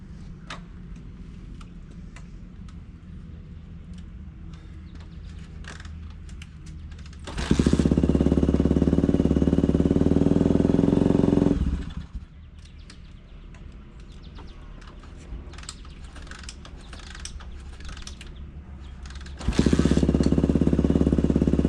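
A 1999 Honda XR250R motorcycle engine idles while warming its oil, a steady close mechanical running with two louder bursts of revving.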